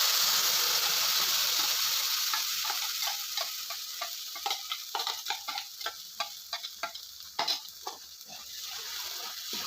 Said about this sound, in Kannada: 1-2 ನಿಮಿಷ ಈ ಮಿಶ್ರಣನ ಹಾಗೆ ಫ್ರೈ ಮಾಡ್ಕೊಳ್ಳಿ ಎಣ್ಣೆಲ್ಲೇ.